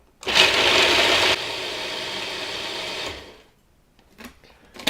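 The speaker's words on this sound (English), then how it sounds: "the flour into the food processor and just chop that up until we get those nuts chopped up into rather a fine meal" A food processor grinding nuts with flour into a fine meal, with a loud steady motor whir that drops slightly in pitch partway through, then stops, followed by faint handling clatter.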